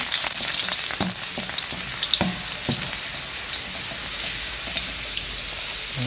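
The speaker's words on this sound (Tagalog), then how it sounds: "Ayan, gisa na po tayo." Garlic sautés in smoking-hot oil in a pan for a Filipino dish: a loud, continuous hiss of frying up close, broken by a few sharp ticks and spatters.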